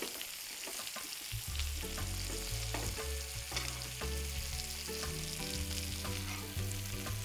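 Hen of the woods mushrooms pan roast in butter over moderate heat, a loud, dense, continuous sizzle and crackle with frequent stirring clicks and a steady tonal hum underneath.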